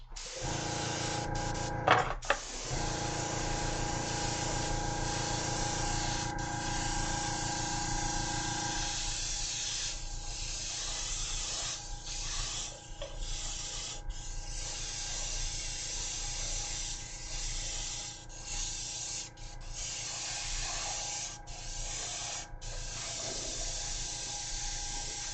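An airbrush or spray gun lays a black base coat of Badger primer onto model wings, giving a steady, continuous hiss that runs at an even level throughout with a few brief interruptions.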